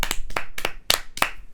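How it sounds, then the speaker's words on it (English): Five slow, deliberate claps from one person, close and crisp, spaced about a third of a second apart, applauding a footballer. "so let's give him a round of applause."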